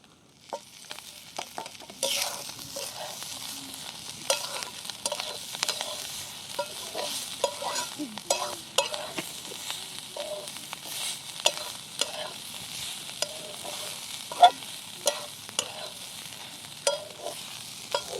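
Chopped onion sautéing in a hot pan for a dried shrimp (javla sukat) chutney: a steady close sizzle with frequent scraping stirs and small crackling pops, running continuously with no talking.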